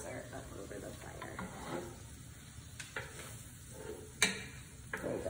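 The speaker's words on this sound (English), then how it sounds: "These are bubbling" Garlic bubbling and sizzling in a pan over a fire, a soft steady crackle with scattered sharper clicks and scrapes, fairly quiet and close, with no talking.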